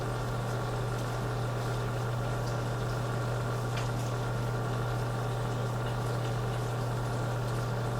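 A microwave oven humming steadily while cooking rice and bacon, a constant low drone with faint bubbling texture, unchanging for the whole stretch.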